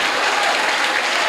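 A church congregation bursts into loud, dense cheering and clapping during a healing service, a close, continuous roar of applause and shouts.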